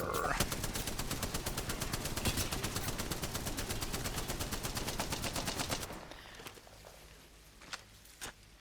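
Rapid automatic gunfire in a video game, a fast, steady burst of sharp shots lasting several seconds before cutting off, followed by a few scattered quieter pops.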